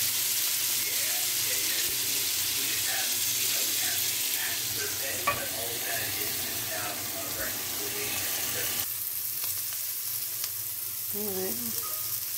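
Oyster mushroom steaks sizzle steadily on a barbecue grill, a continuous close frying hiss with faint clinks and scrapes, and a brief soft voice near the end.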